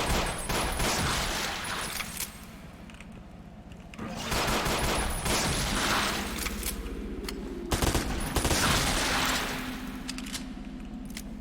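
Bursts of rapid gunfire from the player's gun in the video game Metal: Hellsinger come in several dense volleys, loud and close, separated by brief quieter stretches.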